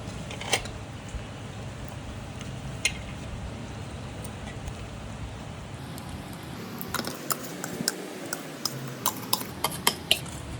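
Spiced oil is mixed into raw mango pieces for a mango pickle, a quiet steady background that turns into a run of light, scattered utensil clinks and scrapes near the end, with no voices.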